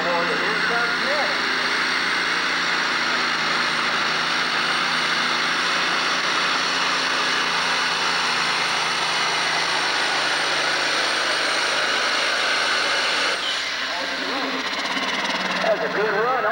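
A competition pulling tractor running two turbochargers makes its run at a 1996 tractor pull in Madisonville, Kentucky, producing a loud, continuous turbine-like engine roar that holds steady throughout before easing slightly near the end.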